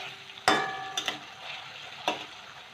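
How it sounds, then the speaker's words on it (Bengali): Marinated chicken pieces sizzling in a hot pan, fried lightly rather than browned, as a pizza topping: a steady fry hiss with a few sharp clinks of a utensil against the pan. "চিকেনটা যতক্ষণে ভাজা হচ্ছে"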